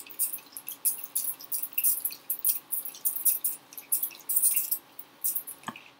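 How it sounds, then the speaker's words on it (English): A handheld water mist spray set on the face during makeup, heard as rapid, repeated hissing pump bursts in an uneven rhythm, close and alone, ending with a soft tap. "This is just a water spray I'm using to set my face."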